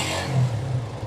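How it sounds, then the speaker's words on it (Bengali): A used motorcycle in showroom condition runs its engine, giving a brief, steady mid-pitched hum with a slight rev, close and moderately loud. "ইঞ্জিন সাউন্ড শুনলে এই গাড়ির প্রেমে পড়ে যাবেন"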